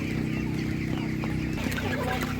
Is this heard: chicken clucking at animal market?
yes